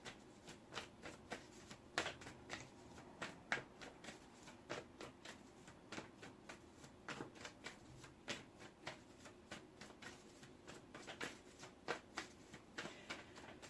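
Tarot cards are shuffled by hand in a steady run of crisp riffling snaps and soft slaps, close and fairly quiet, continuing with no talk.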